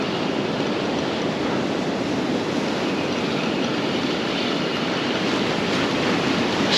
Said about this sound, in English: Careful in the surf.